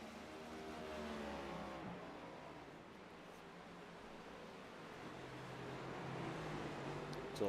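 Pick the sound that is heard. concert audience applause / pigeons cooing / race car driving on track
race car driving on track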